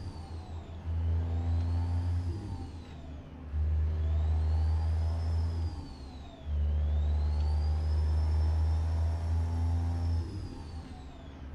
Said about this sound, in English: Kind of liked it when it came out because it's got this great turbo whistle.